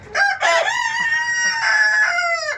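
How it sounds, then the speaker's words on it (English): A loud rooster crows once nearby, a full drawn-out cock-a-doodle-doo at a chicken and duck run. "There's one of my loud roosters. He likes to go off about 2, 3 in the morning."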